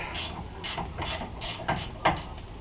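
A hand ratchet loosening the 18mm nut on a tie rod end of a GM truck or SUV during upper ball joint replacement, with a quick run of close, crisp clicking pawl strokes ending in a sharper snap.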